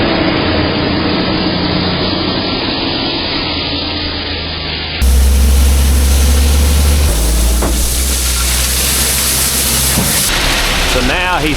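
A TYM tractor with an Ironcraft dual blade grader moves gravel, its engine running with a steady rumble under gritty scraping noise. The sound shifts abruptly partway through to a louder, closer drone.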